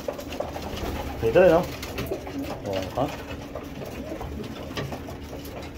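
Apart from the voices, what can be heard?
pet pigeons cooing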